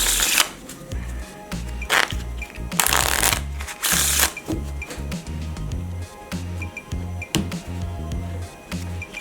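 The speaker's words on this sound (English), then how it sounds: "The dealer shuffles the deck and cuts the deck." A dealer shuffles a deck of playing cards in repeated riffles, each a sharp rapid flutter of cards followed by soft tapping and squaring of the deck, close and clear.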